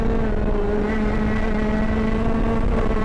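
Electric kart at speed on a track, a steady loud broadband rush of tire roar and wind noise with a faint constant tonal whine, continuous and close with no voices.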